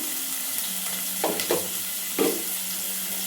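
Chopped onion and curry leaves fry in oil in a pan for a simple radish sambar, a steady soft sizzle with a few brief scraping stirs over it.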